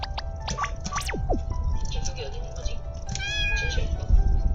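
A cat meows several times, high and drawn out, in a horror video game set in a locked house, over a low droning background while someone talks.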